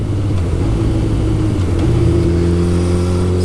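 A motorcycle fitted with a Healtech quickshifter pulls hard under load, its engine droning loud and close with rising tones and brief dips as gears change, no voices present.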